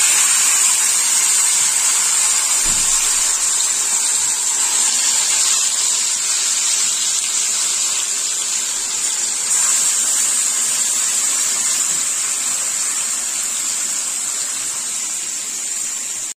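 Chicken pieces dropped into hot oil seasoned with red chilli powder, giving a steady, loud sizzling hiss that holds throughout without pause.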